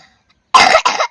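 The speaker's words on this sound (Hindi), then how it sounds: "तो खांसी आने लग पई" Two harsh, close coughs come in quick succession after a silent moment, from a man outdoors on a cold village morning.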